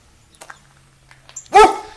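Dogs bark outdoors after rain near muddy puddles: a loud, close burst of barking near the end, preceded by faint scattered yips and noises.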